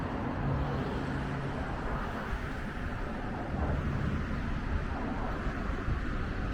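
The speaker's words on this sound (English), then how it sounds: "And here comes a city-bound train." A modern city-bound suburban train heading to Flinders Street passes through Oakleigh Railway Station in Victoria, producing a steady, fairly loud low rumble with a broad wash of noise and wind buffeting throughout.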